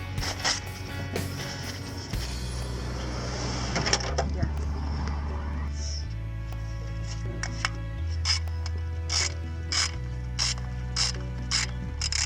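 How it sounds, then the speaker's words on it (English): A ratchet tightens an ignition coil bolt on a 2000 Toyota Corolla, with rapid close metallic clicking in repeated bursts over a low engine-bay hum. "Go ahead and install the bolt."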